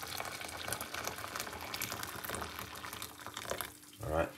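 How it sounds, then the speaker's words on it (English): Water bubbles and hisses in a kettle coming to the boil, a continuous close rumble with a faint voice briefly heard near the end. "So I just boil my kettle."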